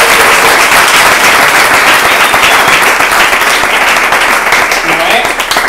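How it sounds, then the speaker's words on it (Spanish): Loud, dense audience applause fills a design talk, a continuous wash of many hands clapping at an even level throughout. "Y quiero un aplauso"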